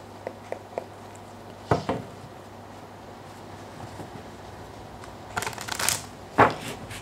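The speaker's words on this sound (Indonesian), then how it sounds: "terutama ketika aku shuffle kartu ini" Tarot cards shuffled by hand in scattered bursts: light taps early on, then papery riffles and slaps at intervals over a quiet room hum, with no talking.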